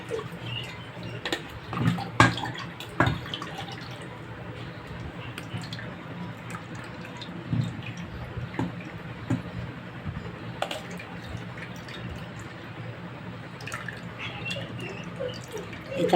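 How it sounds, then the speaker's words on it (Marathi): Water pours and drips off freshly churned homemade butter as it is drained to the side before cooking into ghee. Soft trickling and splashing runs throughout, with occasional louder splashes and squishy handling sounds, close and quiet. "आता त्यातलं हे आपण पाणी साईडने काढून घेऊया"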